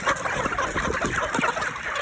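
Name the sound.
chickens clucking at feeding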